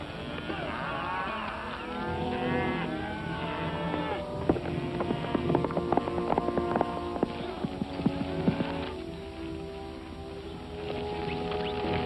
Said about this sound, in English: Those cattle they're unloading are scraps.